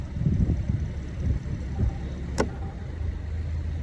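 A boat's engine throttled up slightly while the vessel is still tied to its dock lines during commissioning and a sea trial, a low steady rumbling drone running throughout, with wind noise over the microphone.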